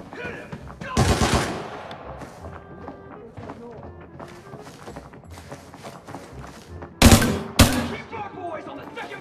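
Automatic gunfire from a video game shooter rattles out in two loud bursts, one early and a double burst near the end, with footsteps and game noise between them and a voice talking over the action.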